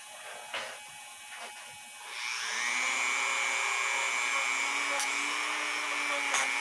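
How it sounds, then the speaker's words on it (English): A Dremel rotary tool with a buffing pad spins up to polish a New England cathedral clock part, its motor rising to a steady close whine that holds after a few quiet seconds of handling. "all I'm using to buff it out is just a Dremel with a buffing pad on it"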